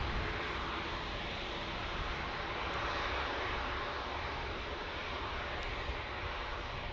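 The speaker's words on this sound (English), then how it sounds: "This Dreamliner is TUI 787-800." TUI Boeing 787-800 Dreamliner jet departing Manchester Airport, a steady broadband engine roar that stays loud and unbroken throughout, with no voices over it.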